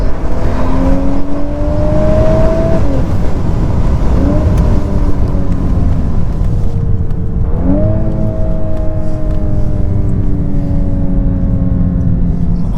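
A VW Golf 8R Performance engine hums and rises through the gears, pitch climbing then dropping at each shift, loud and steady from inside the cabin.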